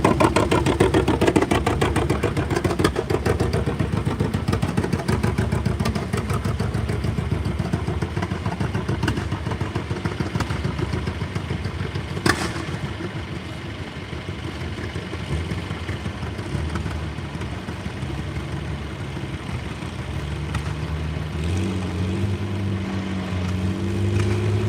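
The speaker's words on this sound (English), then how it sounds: "That was Super's tractor that was parked next to me, John Deere." An antique tractor engine idles steadily at close range at an antique tractor pull, a continuous rough low rumble with clattering texture, holding for the whole stretch with slight shifts in tone near the end.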